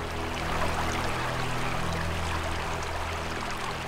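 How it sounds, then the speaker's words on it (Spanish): A small stream of rainwater trickles and pours steadily into a dry sandy riverbed in Africa, a continuous close rushing wash with no voices over it. "La temporada de lluvias en el río Sand comienza con un pequeño arroyo."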